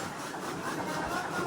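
A newly bought chaff cutter machine runs on a farmhouse property, giving a steady, continuous droning whirr at moderate distance without pauses or talk.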